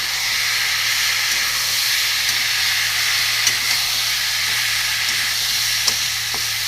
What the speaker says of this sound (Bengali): একসাথে এটা আমি কষে নেবো ডালের সাথে